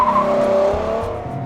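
A Ford Mustang pulls away loudly at close range, its engine note steady and droning throughout, with a hint of tire noise under the continuous roar and no talking.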